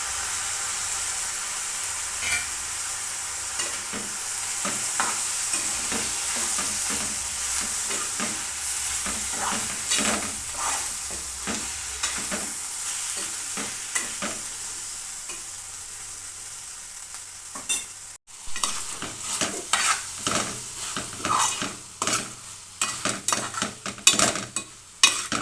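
Tomatoes sizzle in a hot pan for Tadipatri-style Rayalaseema biryani while a spoon stirs and scrapes them, loud frying hiss broken by repeated clinks and scrapes of metal that grow choppier toward the end, no talking.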